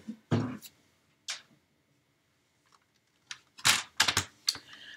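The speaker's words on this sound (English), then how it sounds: "With my trimmer, and they just slice like butter." Paper trimmer blade slicing through a treat bag about 1 inch from the end, giving crisp short cutting clicks in a few bursts, near and clear with quiet gaps between.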